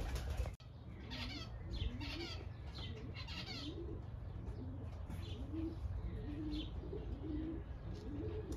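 Racing pigeons coo repeatedly in a loft, with wings flapping and soft chirps, fairly close and continuous over a noisy background.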